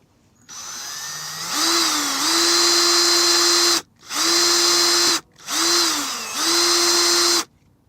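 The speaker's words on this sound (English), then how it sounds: "So I'm just going to go ahead and use a drill bit." A power drill whirs in several bursts, spinning up and holding a steady high whine, with short pauses between runs; close and loud.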